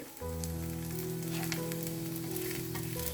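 Yogurt batter for a breakfast dish sizzles steadily as it fries in a pan, a soft continuous crackle at fairly low volume with a low background hum, no talking.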